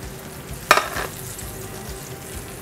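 Butter hits a hot pan with a brief sharp hiss that quickly settles into a faint, steady sizzle.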